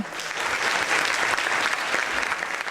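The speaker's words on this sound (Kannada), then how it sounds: "ಜೋರಾದ ಚಪ್ಪಾಳೆ" A town hall audience in India claps loudly and continuously, a dense, even wash of applause from many hands filling the space without any speaking over it.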